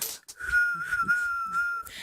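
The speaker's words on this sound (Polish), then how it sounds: "I w tym momencie sędzia gwizdże." A referee's whistle ends a Poland versus Switzerland football match with one long, shrill, steady blast of over a second, close and clear, amid faint crowd noise.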